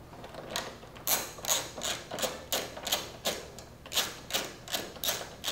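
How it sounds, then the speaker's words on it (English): A bolt being worked out of the rear rack mount on a Buddy scooter, a quiet, close run of regular clicking ratchet-like ticks in an even rhythm, with no voices. "take this bolt out, drop it in there as well"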